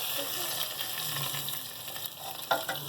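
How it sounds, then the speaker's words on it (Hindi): Baghar for nihari, oil tempering with a little ginger, sizzles steadily in hot oil: a dense, close crackling hiss that holds for several seconds and ends with a few louder spatters. "ये मैंने भगार लगा दिया"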